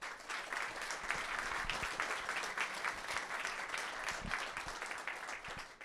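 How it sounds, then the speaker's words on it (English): An evening startup competition audience applauds its sponsors, organizers and judges, with steady, dense clapping and scattered louder individual claps throughout. "just would love everyone to take a minute and just kind of provide some applause and kind of just acknowledgement to the sponsors, the organizers, and the judges"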